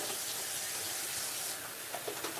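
Shrimp get rinsed under a running kitchen tap, a brief close and fairly quiet stream of water splashing steadily, with no talk.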